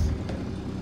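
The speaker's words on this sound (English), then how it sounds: "Sorry about the noise in the background. It's the garbage truck." A garbage truck rumbles steadily in the background, a low broadband engine drone that stays fairly even throughout, with no talking.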